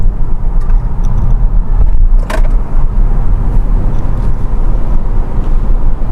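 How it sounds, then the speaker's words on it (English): A 2025 Toyota Camry, sport version, driven spiritedly in sport mode, produces a loud, steady engine and road rumble from inside the cabin, with a brief sharper rise near the middle. "we're going to put this car in sport mode and drive it a little more spiritedly, since this is the sport version"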